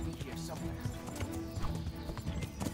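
Horse hooves clip-clop steadily in the medieval game Kingdom Come: Deliverance, a quick, even trot up close, layered with other game sounds and a voice.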